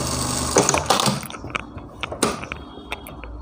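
A sewing machine running a double seam on a blouse, giving a busy mechanical whirr with ticking and clattering accents over about three seconds, fairly close and with no voices.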